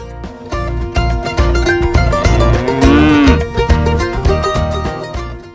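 Cattle and water buffalo on an open savanna in Dompu, Sumbawa, lowing loudly and close by, with several overlapping deep moos following one another through the clip.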